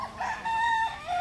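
A rooster crows nearby, a loud drawn-out cock-a-doodle-doo with a strained, wavering pitch, heard on its own without any talking.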